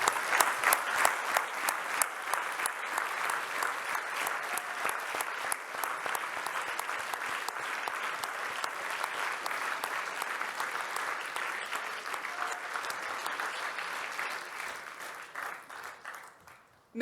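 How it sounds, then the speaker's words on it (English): Graduation-ceremony audience giving a long, steady round of applause for the graduating class, dense clapping from many hands that holds even for about sixteen seconds before tapering off. "please give a big round of applause for our courageous cohort"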